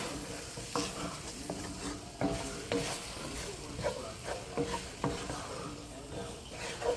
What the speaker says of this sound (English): Mix that in your veggies.